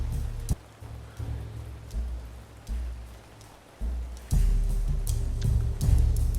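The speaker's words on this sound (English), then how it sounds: "It's raining a lot, isn't it?" Steady rainfall in the video game Ancient Cities patters down throughout, growing heavier and louder about two thirds of the way in, with a few brief knocks and ticks on top.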